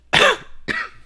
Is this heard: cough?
yes